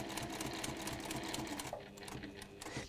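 A sewing machine runs steadily, stitching fabric in a continuous close-up whir with a fine rapid mechanical rhythm that barely varies across the stretch, no voices present.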